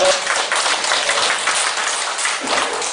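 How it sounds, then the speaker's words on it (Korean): A church congregation claps together in steady, dense applause that fills the whole moment, close and loud with no pauses or voices. "오늘 우리 김재현 장님 너무 잘 말씀하셨는데 박수 한번 주실까요?"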